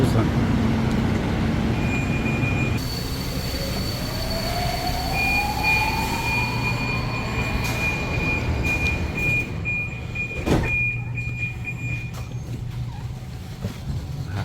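A Budapest metro line 4 subway train carries on in a steady loud rumble, with a rising motor whine and long high squeals from the wheels or brakes, a sharp clunk near the end.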